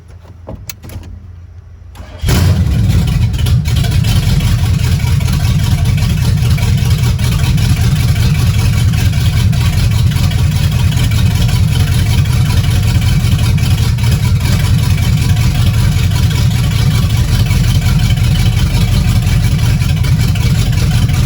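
A Chevrolet C10 pickup truck engine starts after a brief quiet moment and then idles steadily with a loud, low rumbling drone that continues unbroken, no voices over it.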